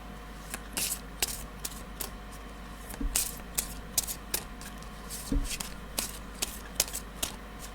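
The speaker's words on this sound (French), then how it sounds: "pour les tirages de la semaine, j'utilise la méthode de la coupe avec des arcanes majeures" Major arcana tarot cards cut and shuffled by hand, a run of quick papery snaps and flicks spaced irregularly over a quiet room, fairly close and soft, with no talk.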